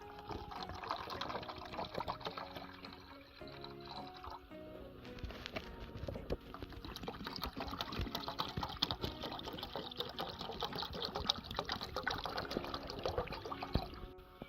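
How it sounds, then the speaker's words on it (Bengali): Cold water poured steadily into a bowl of raw mango pulp, a continuous close splashing and trickling that runs unbroken throughout, without talk. "ঠান্ডা জলটা আমি এখানে দিয়ে দেবো"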